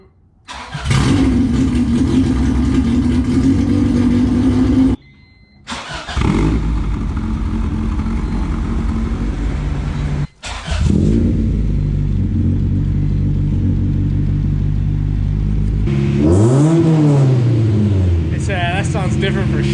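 An Acura Integra engine with a new catback exhaust idles and rumbles loudly with a deep exhaust note, cutting out briefly twice, then revs up with rising and falling pitch near the end.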